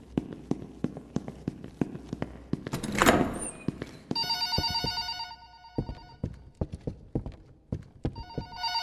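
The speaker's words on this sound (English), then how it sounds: "Tae will be drawn to the ringing phone" A telephone rings in the White Day 2 horror game, its repeated electronic bell tones starting partway through and cutting in and out, set among scattered sharp thuds and clicks with no talking.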